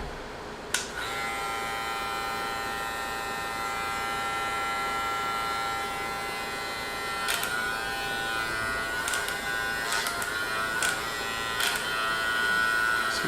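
Low Pro zero-gap hair clippers run with a steady, close electric buzz and hum that holds for the whole stretch. A few faint clicks and taps sit on top, and no one talks.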